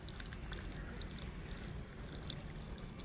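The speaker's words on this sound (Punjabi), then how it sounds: "ਪਾਣੀ ਹੋਰ ਪਾਓ, ਥੱਲੇ ਚਲੇ ਗਿਆ ਸਾਰਾ।" Water pours steadily onto the ground in a village yard, around a newly planted sapling beside a brick enclosure, as a constant close splashing flow with no voices.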